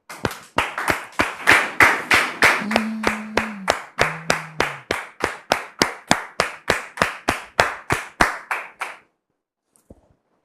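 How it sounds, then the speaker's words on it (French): A live audience claps together in rhythmic, steady unison at a welcoming on stage, loud and close, with a few whistles partway through, then the clapping stops abruptly. "On le reçoit maintenant sous vos applaudissements."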